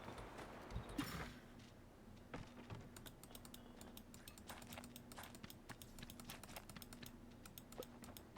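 Horse hooves clip-clop in a video game, a steady run of sharp, light clicks close up, continuing throughout with a faint low hum underneath.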